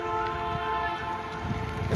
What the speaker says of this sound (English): it sounds like a train over there